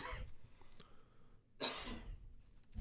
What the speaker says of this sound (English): I keep coughing lately.